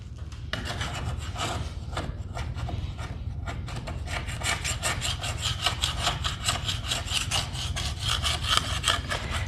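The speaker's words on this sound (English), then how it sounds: "you just kind of just smoothly run your paint scraper along the side of it" A paint scraper rasps along a deglossed wooden staircase in steady, repeated strokes, a close, continuous scraping and rubbing sound with no talking.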